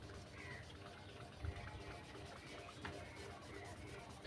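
A rough, sand-coated sponge scrubs across a floor tile to wipe off marker writing, giving a steady, soft grinding rub at close range with a few brief knocks.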